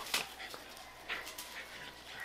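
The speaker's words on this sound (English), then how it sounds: "It's a dog fight." Dogs scuffle and fight outdoors on Kaua'i, Hawaii, giving several short high yips and whimpers at moderate distance, scattered irregularly over a quiet background with no clear talk.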